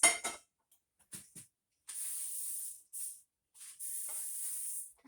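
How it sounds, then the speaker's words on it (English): Several bursts of canola oil cooking spray hiss onto a small skillet, short and longer, close and fairly quiet, separated by pauses with a faint clink at the start. "with my canola oil, I'm going to spray my pan"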